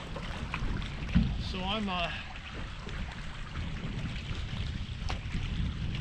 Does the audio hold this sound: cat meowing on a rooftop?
no